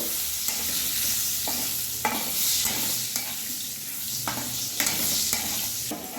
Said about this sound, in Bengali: এই তেলে আমি মাংস দিয়ে দেব